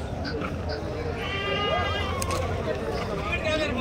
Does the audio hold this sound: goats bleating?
yes